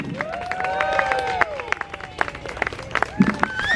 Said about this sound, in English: Can we have a big round of applause for David?